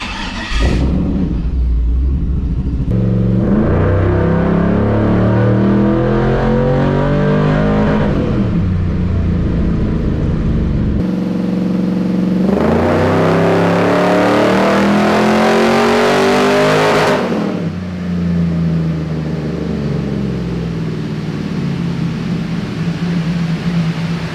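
An LS-swapped Chevrolet C10 truck engine revs hard during tuning, loud and sustained, pitch climbing, dropping, then climbing again to a high whine before settling into a lower drone.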